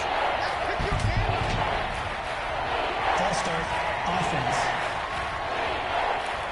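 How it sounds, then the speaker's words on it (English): Stadium crowd noise in a football video game, a San Francisco 49ers versus Seattle Seahawks home match, a steady loud roar of the crowd throughout with brief swells and thumps, carrying under commentator-style voices. "The crowd's not doing that O-line any favors."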